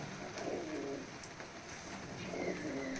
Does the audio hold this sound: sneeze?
no